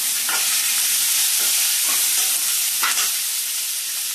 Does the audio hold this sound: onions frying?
yes